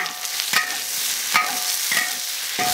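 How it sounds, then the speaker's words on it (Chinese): Garlic, millet chilies and frozen mountain-picked tomatoes are stir-fried in a wok, with four spatula scrapes at a steady rhythm over a continuous, close sizzle of hot oil. "炒了之后再下入西红柿"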